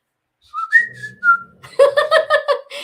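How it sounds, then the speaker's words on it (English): A person whistles a signal close up, starting with a few rising and falling tones, then following with a quick run of short, bright, rhythmic notes. "how does your whistle go when we're in a flea market?"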